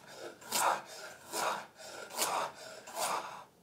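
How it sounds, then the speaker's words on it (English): Knife chopping on a cutting board, picked up by a Rode Wireless GO mic: four evenly spaced, scraping strokes about once every three-quarters of a second, close and moderately loud, with no talking. "we wanted to get some of that ambient audio of us actually chopping"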